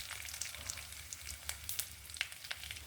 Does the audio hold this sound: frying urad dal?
yes